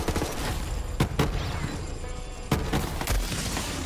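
Gunfire in Borderlands 3 sounds as a steady rattle of shots under a busy game soundscape, with a few sharper, louder cracks standing out near the start and middle.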